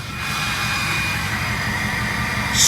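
A Ford 6.0 PowerStroke diesel truck engine with an upgraded turbo runs at a steady, low rumbling idle with a hissing whine on top, close and loud, rising slightly at the end.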